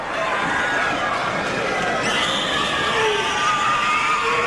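Loud, steady crowd roar from the Deming fans at a 1988 high school basketball game against Mason County in double overtime, a continuous dense wash of cheering and shouting with no break.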